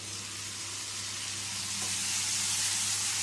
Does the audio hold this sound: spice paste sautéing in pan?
yes